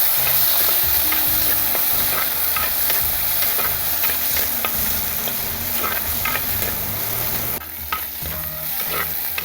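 Onions sizzle steadily in a hot pan while a spoon scrapes and stirs with repeated clinks and scrapes throughout, close and continuous.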